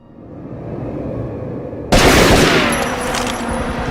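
A sudden burst of gunfire erupts midway through a Tomb Raider: Legend cutscene, loud and dense after a low rumbling lead-in, with a sustained rattling tail.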